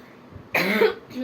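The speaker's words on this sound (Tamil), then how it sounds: "இருமல் வந்துக்கிட்டே இருக்குது" A single short, harsh cough close to the listener.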